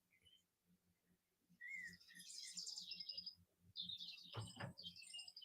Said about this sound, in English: I don't like that bird.